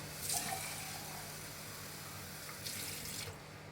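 Water pours from a tap into a pot for a one-pot mushroom chicken macaroni, a steady faint splashing stream running throughout with a brighter burst near the end.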